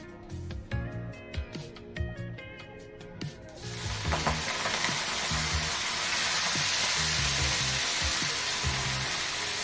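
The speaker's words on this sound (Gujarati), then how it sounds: "આપણું તેલ ગરમ થઈ ગયું છે તો આપણે એમાં મેથીની ભાજી ધોઈને લીધેલી છે એ આમાં" Washed fenugreek leaves hit hot oil in a pan for methi thepla: a few scattered stirring clicks and taps, then a sudden loud, steady broadband sizzle that stays dense and close until the end, with no talking.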